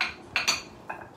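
Chopsticks and spoons being gathered up, a few quick light clinks of utensils knocking together, close and fairly quiet, three brief taps within about a second.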